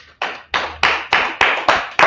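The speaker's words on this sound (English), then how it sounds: "Clap it up." A group in a history class at a Harlem headquarters claps in unison, about seven sharp, evenly spaced claps in a steady rhythm.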